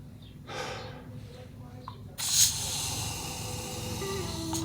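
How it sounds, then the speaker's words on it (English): A person breathes hard and out of breath at high altitude in dry Ladakh air. Two sharp, close breaths come through the nose and mouth, the second one louder, against a faint outdoor background. "I'm out of breath."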